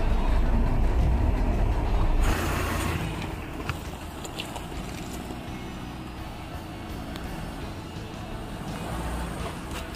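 A Mahindra Thar 4x4 grinds up a steep, rocky forest hill track, its engine a loud, continuous rumble that eases slightly after a few seconds, with scraping and rattling over stones throughout.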